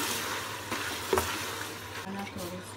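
Tomatoes hit a hot pan for chicken biryani, raising a soft, steady sizzle and frying hiss with a brief stirring clatter, heard fairly quietly close by.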